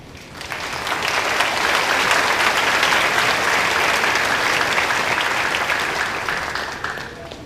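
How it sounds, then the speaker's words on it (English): A graduation audience at Harvard High School gives dense, loud applause that rises quickly, holds steady for several seconds, then tapers off. No voices over it. "please give them a huge round of applause"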